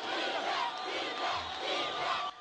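A large crowd of supporters of Aisha Gaddafi in Libya roars and chants together, a dense, continuous wall of voices with a slight drop at the very end.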